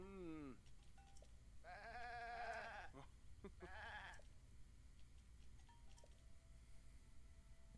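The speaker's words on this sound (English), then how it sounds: "My poor sweet goats." Goats bleating in Zelda: Tears of the Kingdom, two or three wavering, nasal bleats in quick succession against a quiet game backdrop, fairly close and clear.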